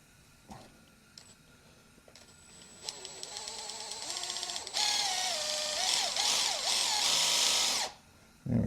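A cordless drill driving a transfer pump moving beet juice: a few clicks, then a whirring motor that rises in pitch and holds a loud steady whine with fluctuating tones before stopping abruptly.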